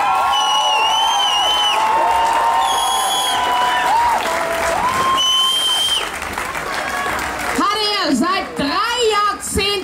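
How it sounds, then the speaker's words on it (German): Sustained applause with cheers and whistles from a Cologne Pride (CSD Köln) crowd at an award ceremony, loud and steady for most of the stretch, with voices rising over the clapping near the end. "Der Applaus gilt euch allen jetzt."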